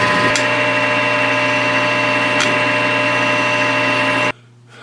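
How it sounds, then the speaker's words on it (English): A Grizzly G4003G metal lathe facing off a bolt head: a steady, loud machine drone with metallic cutting whine runs continuously, with a couple of brief clicks, before the motor noise suddenly drops away near the end. "Instead of a slotted screw head on it, I'm going to face that off."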